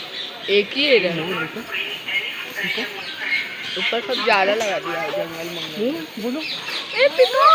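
Shrill parrot squawks and chatters repeat in quick, uneven bursts close by at a jungle safari park, mixed with a lively bird chorus.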